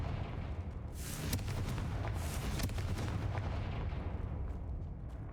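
A Confringo explosion spell goes off in Hogwarts Legacy, a loud rumbling blast with booming impacts and crackling debris that rolls on for several seconds with no talking over it.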